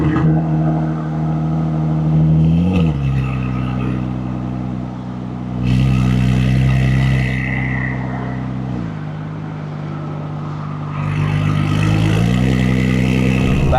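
A Porsche 992 tuned as a record-setting 100-200 km/h car cruises in sport mode, its engine droning steadily with rising and falling revs as gears shift, loud and close from inside the cabin.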